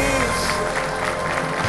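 Dense studio audience applause on a quiz show after a contestant answers correctly, a loud, continuous burst of clapping filling the short moment.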